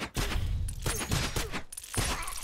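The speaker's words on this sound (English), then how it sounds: "we got this turret just blasting us endlessly" Continuous turret fire in the action game Endless Memories, loud dense bursts of blasts and impacts repeating rapidly with no pauses, filling the whole stretch with no talking.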